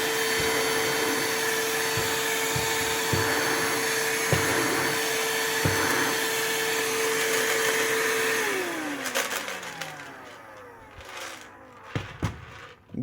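A Silvercrest SHSA 20-Li A1 cordless vacuum cleaner runs with a steady, close whine and small bumps of debris, then switches off and its pitch sinks away as the motor winds down, leaving faint handling clicks.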